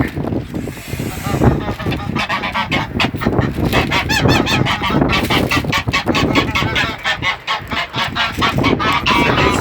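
A flock of geese being fed wheat, honking loudly and close in rapid overlapping calls that barely pause, with hissing mixed in and a person talking briefly among them.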